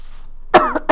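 A person coughs and clears their throat, two short rough bursts close to the microphone after a moment of near silence.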